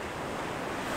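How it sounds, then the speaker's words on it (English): Waves breaking on rocks beside a breakwater make a steady, close roar of surf that fills the whole brief moment with rushing water and faint wind, with no voices present. "So I love to photograph waves breaking on rocks and on the shoreline."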